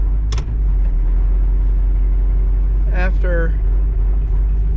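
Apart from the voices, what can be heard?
Chevrolet Malibu car backing out of a driveway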